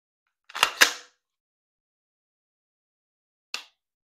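Dry-fire trigger on a cleared PSA Sabre AR-15 rifle: two crisp, closely spaced mechanical clicks as the trigger is pulled and reset, then a single sharper click about three seconds later, close and clear in a quiet room.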